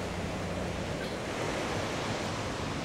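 Rushing water near Strasbourg makes a steady, dense, broadband roar that fills the whole stretch without breaks, fairly close and with no voices.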